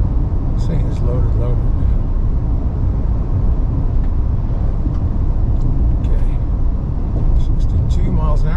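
Steady, loud cabin drone of a 2024 Chevy Silverado Duramax diesel truck climbing a highway hill at cruising speed, with constant road and engine rumble and someone talking over it.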